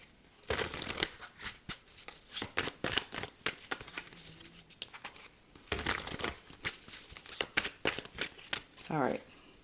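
Tarot cards being shuffled by hand in repeated crisp riffling bursts, close and fairly loud, with short pauses between rounds and a speaking voice at times.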